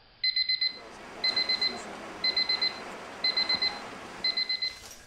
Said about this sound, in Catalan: A les 3 de la matinada sona el despertador